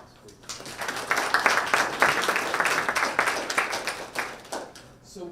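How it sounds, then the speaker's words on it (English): A small community gathering breaks into moderately loud applause that builds quickly, holds for a few seconds and then tapers off, with faint voices just before and after. "Round of applause, please."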